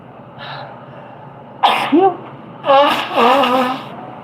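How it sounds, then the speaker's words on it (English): A loud sneeze, a sharp burst followed by a strained, voiced tail, then a second vocal outburst; faint background hiss before it. "I'm gonna sneeze. Hold on."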